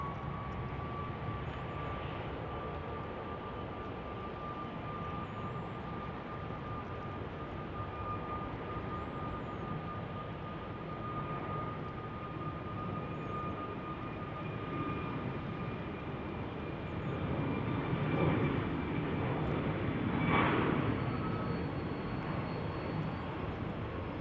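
A Boeing 737 MAX 8 jet airliner departs Salt Lake City airport with a steady, distant engine roar and a faint whine. The roar swells briefly louder near the end.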